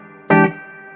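An electric guitar through a PRS Sonzera 50-watt 1x12 combo amplifier with a small reverb tank. A single loud chord hits sharply, and its reverb-washed tone rings on and slowly fades.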